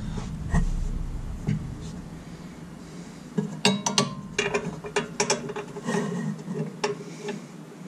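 A socket ratchet works on exhaust bolts under a Jeep TJ, with a few soft clicks early and then bursts of rapid ratcheting clicks and metallic clinks, close and moderately loud.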